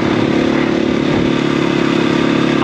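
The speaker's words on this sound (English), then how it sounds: "This is my favorite bike." A KTM 500 EXC-F dirt bike engine runs steadily close by, a loud, continuous buzzing drone with an even, slightly rattly tone and no speech.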